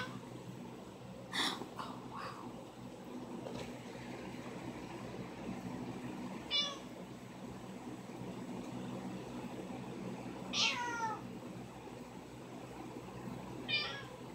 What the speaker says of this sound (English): Meow. That in the background is Dolly